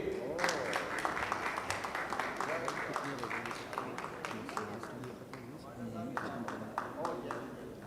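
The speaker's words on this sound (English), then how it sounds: "A big round of applause for Ms." An event audience claps for an honoree coming to the stage at a Dell corporate showcase, steady applause running throughout as an amplified host keeps speaking over it.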